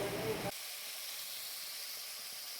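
Ingredients dropped into very hot oil left over from frying fish, for a sesame and fish dish: a loud sizzling burst that quickly settles into a soft, steady frying hiss.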